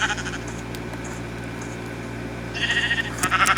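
Sheep bleating in a video game, a few short wavering bleats near the start and then again more loudly toward the end, over a steady droning game background.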